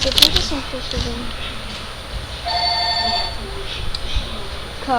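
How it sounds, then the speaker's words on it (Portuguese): An electronic telephone ring sounds in short repeated tones partway through, set among bright video-game chimes and effects, with excited voices talking over and around it. "Caraca, telefone."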